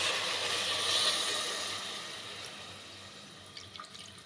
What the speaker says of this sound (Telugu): మనం ఇది కావాలంటే అన్ని నీళ్ళు పోసుకోవాలి.